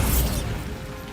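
Bombarda blasting spell going off in Hogwarts Legacy, a single loud low boom with a bright crackling burst at the start that rumbles and fades over about a second.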